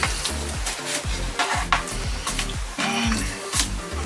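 A skinless mahi mahi fillet sizzles in a hot frying pan after being flipped, with a steady broadband hiss and repeated low scraping, clattering knocks from a utensil against the pan, close and loud.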